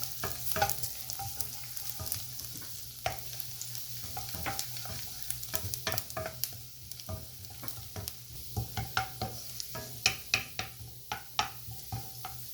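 Garlic sizzles steadily in hot oil, frying toward golden, while a utensil scrapes and taps the pan in an irregular stirring rhythm, close up and with no voices.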